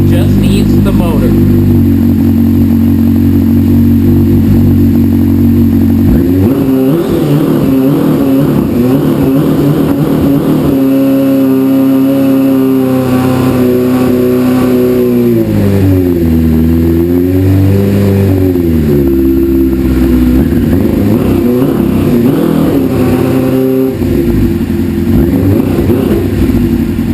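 A 2000 Suzuki GSX-R 600 motorcycle engine runs close and loud, idling roughly before climbing through repeated revs that rise and fall, with the steady drone continuing throughout.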